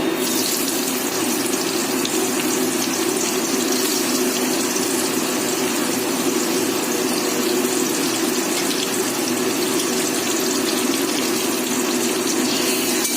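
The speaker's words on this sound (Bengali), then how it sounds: "ভালো করে একটু পেঁয়াজটা ভেজে নেব লাল লাল করে একটু পেঁয়াজটা ভাজবো" Chopped onions fry in hot oil after whole spices for a potato and egg curry, giving a constant loud sizzle that runs unbroken for over ten seconds with no voices.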